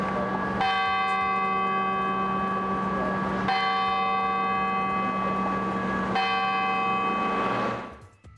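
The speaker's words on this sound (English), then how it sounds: "the Grace Cathedral rang its bells 96 times at noon Thursday in honor of the late Queen" Grace Cathedral in San Francisco rings its church bells at noon in a memorial peal, three big resonant strikes a few seconds apart, each humming with a long, ringing tone that fades out at the end.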